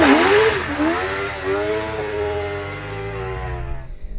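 A V8-converted race car revving hard on a track at a pit lane event, its engine note rising and falling through several gears, loud and close, then fading away.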